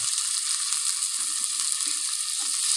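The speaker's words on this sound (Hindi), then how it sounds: "और अब हम डालेंगे टमाटर।" Tomatoes hit a pan of frying mixed vegetable curry of potato, peas, cabbage, fenugreek and carrot, giving a loud, steady, close sizzle with faint stirring scrapes throughout.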